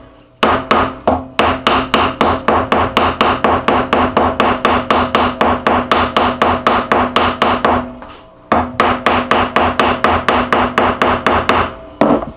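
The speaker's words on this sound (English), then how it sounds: "now I can put the metal directly in the vise because I got the angle pretty much the way I want it, so I can give that a couple more whacks" Metal clamped in a vise is struck with a hammer in a fast, even run of loud, close ringing blows, a brief pause around the eighth second, then another steady burst of strikes with no talking.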